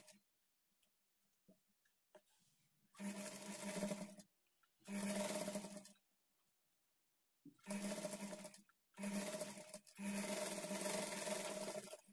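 An electric sewing machine stitches a child's lehenga blouse along the sleeve seam in four loud, close bursts separated by short pauses, with faint ticks and fabric handling between runs.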